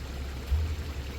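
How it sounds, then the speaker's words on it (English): Water drains inside an AVK fire hydrant, a steady rushing gurgle with low swirling suction, close and continuous with no voices. "see that the water's draining in there real good"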